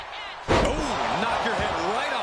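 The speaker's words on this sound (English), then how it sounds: "Oh, knock your head right off with that knee." A wrestling video game knee strike to the head lands as a single sharp, heavy impact midway through, followed by ringing crowd and arena ambience while commentary continues underneath.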